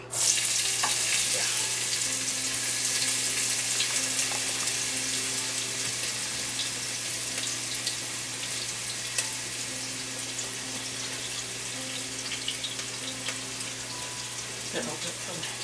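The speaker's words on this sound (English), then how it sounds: "I've already got the 2 tablespoons, approximately 2 tablespoons of this olive oil in here, and then I'm going in with the onions" Onions fry in about two tablespoons of olive oil in a pan for dirty rice, a loud sizzle on dropping in that settles into a steady crackle, with a low constant hum underneath.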